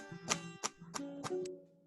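A few strummed guitar chords, four or five short strikes, sounding dull and buzzy with choked, uneven ringing notes from strings not pressed down hard enough.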